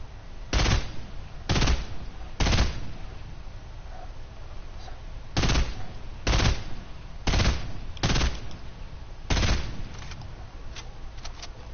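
Gunfire in Fortnite: about ten sharp, evenly punchy shots spread across the stretch in small groups of two or three, close and loud with quiet gaps between bursts and no talking.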